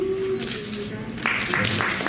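Applause at a Korean literary award ceremony begins as a voice trails off, a broad wash of clapping from the audience that swells and continues steadily.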